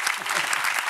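A crowd claps in a brief, dense burst of applause at a rowing club gathering, loud and continuous with no gaps.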